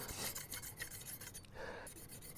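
An axe edge is drawn across a 9 micron abrasive, making soft, close scraping strokes in a quick uneven rhythm, faint and dry with short gaps between passes.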